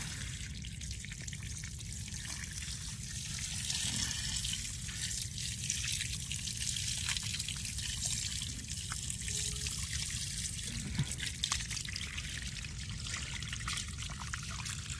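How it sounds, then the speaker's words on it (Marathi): Water trickles and splashes steadily as a farm tool is rinsed outdoors after rice planting, a continuous close running-water sound with no talking. "त्यामुळे आता मस्त धुवू आपण."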